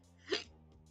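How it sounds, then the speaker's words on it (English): A single short hiccup sound effect from the video game Hiveswap Friendsim, a quick breathy gulp that pops up once over a faint, steady background tone. "Oh, hiccup."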